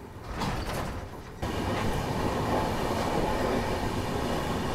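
A train pulls out of Amla Junction railway station with a steady rolling rumble and rattle of wheels over track that grows louder after a sudden step-up partway through, close and continuous with no voices.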